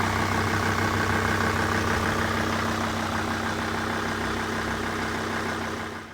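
An old car engine idles steadily, a loud, even, low rumble with a rhythmic throb that holds throughout and fades away at the very end.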